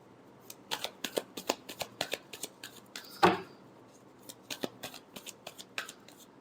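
Tarot cards shuffled by hand, a run of quick crisp riffling snaps in a steady rhythm, one louder burst midway, then more riffles, close and clear with no speech.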